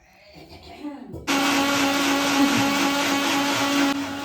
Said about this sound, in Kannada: ನಮ್ಮ ಅಂಕಲು ಮಿಕ್ಸಿ ಹಾಕ್ತಾ ಇದ್ದಾರೆ.